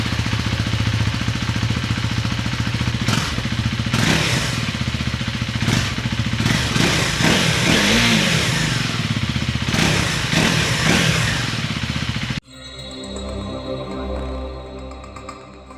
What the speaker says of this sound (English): let's hear how does the stock exhaust sounds like.